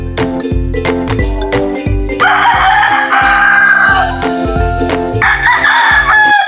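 A derby-size gamefowl rooster crows loudly twice at close range, each crow drawn out. Sharp rhythmic clucks and light tinkling sounds repeat between and under the crows.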